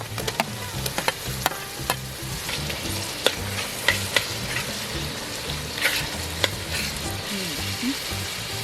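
Tomatoes frying in a pan with ginger and being stirred, a steady sizzle broken by repeated sharp scraping clicks of a spoon against the pan, close and continuous with no talk.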